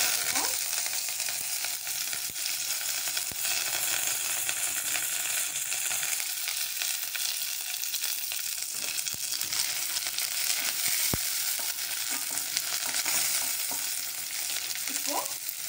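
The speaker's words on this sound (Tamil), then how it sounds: "ஒரு பட்டை, ஒரு கிராம்பு, அப்புறம் ஒரு பிரியாணி இலை போட்டு நல்லா மிக்ஸ் பண்ணிக்கணும்." Cinnamon, clove and bay leaf fry in a hot pan of oil for an egg gravy, a steady loud sizzle with occasional scraping stirs throughout.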